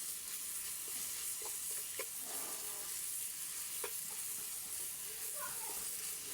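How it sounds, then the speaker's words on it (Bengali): Almonds and raisins frying in a pan for carrot laddu, a steady close sizzle with a few soft stirring clicks scattered through it. "নিয়ে দিব বাদাম, কিশমিশ, দিয়ে একটু ভালো করে ভেজে নেব"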